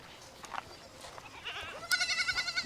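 Goats bleating beside their thatched goat house in a Guinean village, a faint quavering bleat rising near the end over quiet background noise.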